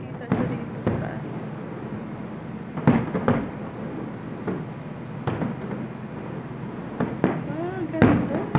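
Saudi National Day fireworks in Jeddah, with scattered thumps and pops at irregular intervals over a continuous background of crowd chatter and nearby talking.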